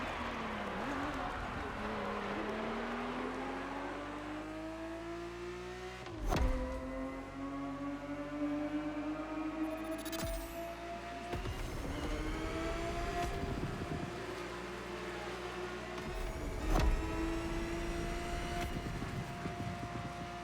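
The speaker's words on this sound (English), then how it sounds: "The Ferrari 365 GTB4 is the perfect vehicle for you to experience Ferrari racing as it felt back in the 70s" Ferrari 365 GTB4 engine in the racing video game Motorfest drones steadily, pitch rising as it accelerates through gears with brief shift dips, a continuous loud in-car engine note with a faint voice under it.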